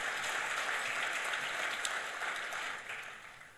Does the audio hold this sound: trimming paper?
no